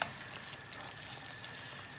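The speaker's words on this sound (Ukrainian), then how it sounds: "Наш соус булькає." Spaghetti sauce simmering in a pot on the stove gives a steady, close bubbling and faint sizzle, alone and without speech.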